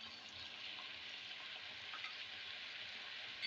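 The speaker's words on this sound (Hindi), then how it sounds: "इसको अच्छी तरह फ्राई करें। 2 से 3 मिनट तक इसको फ्राई करने के बाद हम इसमें अपने मसाले ऐड कर देंगे।" Chicken pieces fry in a pan for a macaroni and spaghetti dish, giving a steady, close hiss of sizzling oil that holds even throughout with no pauses or voices.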